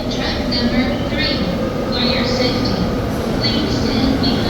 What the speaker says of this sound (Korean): 자, 기차가 왔습니다.